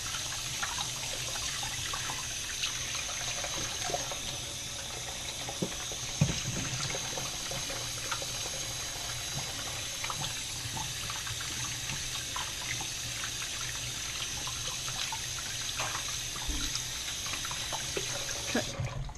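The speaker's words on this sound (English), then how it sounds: "Wash my hands." Tap water runs steadily into a kitchen sink while hands are washed beneath it during cookie baking, a continuous close hiss with small splashes throughout and no talk.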